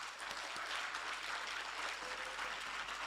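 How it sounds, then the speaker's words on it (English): Audience applause fills a hall at a medical and dental graduates' induction ceremony, a dense, steady clapping that holds at a fairly even level for about three seconds with no talk over it. "Shall we give them a big round of applause?"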